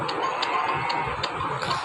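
Chickens clucking in a rural household yard, with soft repeated clucks over steady background noise and a few sharp ticking bursts, no talk.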